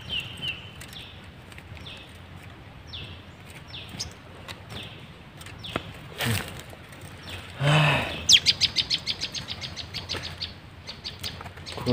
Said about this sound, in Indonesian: burung sogonya banyak banget di atas teman-teman ya, banyak banget